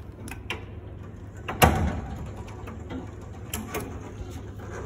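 A Sematic elevator door opening in self-learning mode: a quiet mechanical hum with a sharp clunk partway through, then lighter clicks and ticks as the door travels.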